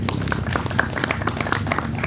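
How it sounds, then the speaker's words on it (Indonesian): Congregation at an Indonesian church service clapping for Jesus, a brief burst of scattered, uneven hand claps over a low murmur of room noise. "Boleh beri tepuk tangan bagi Tuhan Yesus."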